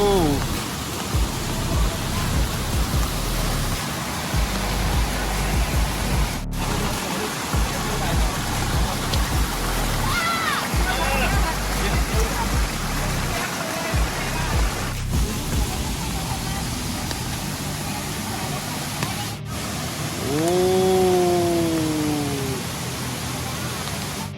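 Steady, loud rushing water roars throughout from a nearby waterfall, Phliu Falls in Chanthaburi, Thailand, with a brief voice near the end.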